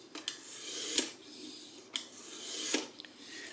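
A knife blade is drawn across a stone on an Apex Edge Pro clone sharpener in slow rasping strokes, each swelling and ending in a sharp scrape, about four passes, close and fairly quiet.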